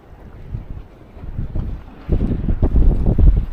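Water sloshing and splashing beneath a small boat out on Lake Huron in breezy, rainy weather, a low rumbling churn that swells louder midway, mixed with wind buffeting the microphone.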